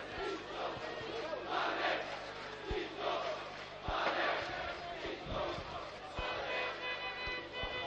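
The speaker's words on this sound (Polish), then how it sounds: "Zebrał za to ogromne brawa." Football stadium crowd during a Widzew Łódź versus Stal Mielec match roars and surges in approval of a player, with swelling cheers and chanting, occasional thumps, and a commentator talking over it.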